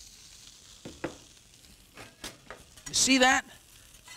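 Food hits a smoking-hot skillet with a little oil, bursting into a short loud sizzle after a few quiet taps and clinks, while a chef talks in a studio kitchen.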